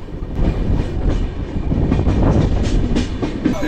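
A passenger train rumbles along steadily and loudly near Moradabad, its wheels clacking in an uneven rhythm over the tracks, with no voices.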